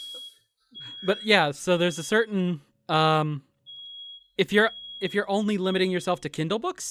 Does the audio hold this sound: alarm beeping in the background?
yes